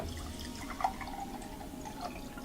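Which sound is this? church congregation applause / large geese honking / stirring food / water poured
water poured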